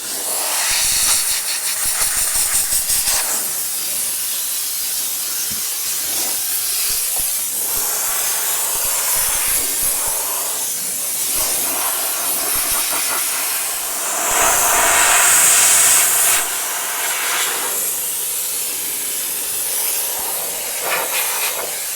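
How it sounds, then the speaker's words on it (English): A steam cleaner blasts a car engine bay with a loud, continuous hiss that swells and eases as the nozzle moves, close and alone throughout. "If you keep the steamer moving, it's fine."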